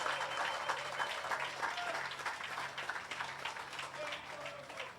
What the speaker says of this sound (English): give our Prime Minister and members of Cabinet a round of applause for that